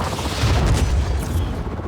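A helicopter-mounted cannon fires in Just Cause 4, a dense, continuous rumble of heavy booming shots under a steady roar, loud and close with no pauses.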